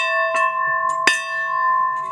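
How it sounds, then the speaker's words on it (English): A dinner bell on the grounds of an antebellum restoration rings out with a few clear, sustained metallic strikes, the tone lingering and ringing on between hits, close and fairly loud. "let's ring the dinner bell here and see if we can get anybody to come in here"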